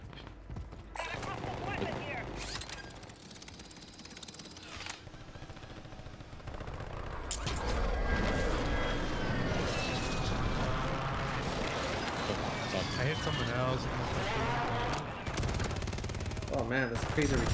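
Rapid gunfire and bursts in the video game Warzone, loud and continuous throughout, with heavy weapon recoil, mixed with other game sounds and someone talking over it.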